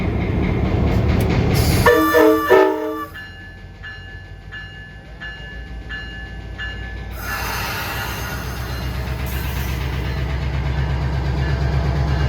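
A train rolls past at close range with a loud rumble of wheels on the rails, a brief horn blast near the start, then a steady heavy clatter of the cars going by.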